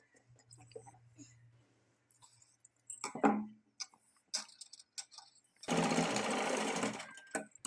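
Sewing machine stitching a hook strip onto a blouse, sounding as a dense, loud continuous whir in the final two seconds, preceded by scattered clicks, handling taps and soft rustling.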